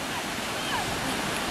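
Ocean waves break at an Atlantic beach on the French coast. The surf makes a steady, loud, full-band rush that fills the whole moment without a pause.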